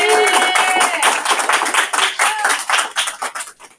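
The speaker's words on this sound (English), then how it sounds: "a round of applause for these amazing women" An audience at an evening panel event applauds for these guests, a dense, loud burst of clapping that gradually thins out over a few seconds.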